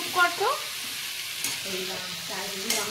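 Cooking with a metal spatula, food frying and being stirred in a pan, giving quiet sizzling with brief scraping strokes, close and faint.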